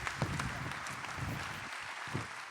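Audience applause during a round-table session at a professional conference, a steady wash of many hands clapping that carries on evenly throughout with a few louder bursts.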